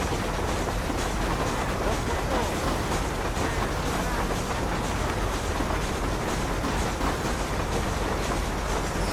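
Moving train in the Red Dead Redemption video game, a steady broadband rumble of rolling wheels and rail noise that runs loud and continuous throughout with no pauses.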